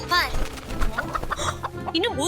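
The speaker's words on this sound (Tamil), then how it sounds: "இன்னும் ஒரு கோழி மட்டும் இருக்கிறது." Domestic chickens on a home farm clucking up close in a quick, uneven series of throaty calls.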